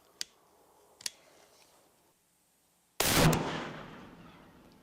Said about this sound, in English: this was our second shot with the Silvertip 50, and it hit right here